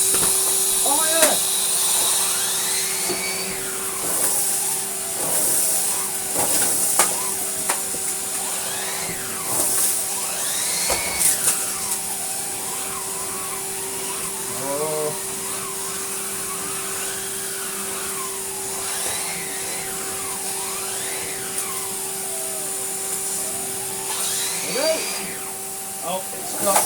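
A Henry HVR200 vacuum cleaner runs on carpet with a steady whine and hiss while its pitch rises and falls as it is pushed back and forth. People talk faintly under it.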